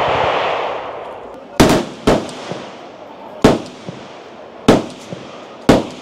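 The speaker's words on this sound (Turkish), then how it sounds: "Meğersem gerçekten Kalaşnikov'la atış yapıyorlarmış arkada." Kalashnikov rifles fire single shots at a shooting range, about six sharp, loud cracks spaced irregularly, each with a short echoing tail. A low murmur of background noise fills the gaps.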